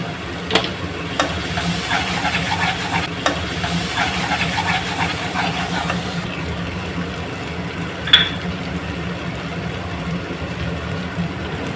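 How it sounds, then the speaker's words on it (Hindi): Masala paste for a Kerala-style rahu fish curry fries in oil, giving a steady soft hiss and sizzle with a few light scraping stirs early on, moderately quiet and with no voices. "जब तक ऑयल नहीं छोड़ेंगे तब तक हम उसको भूनते रहेंगे"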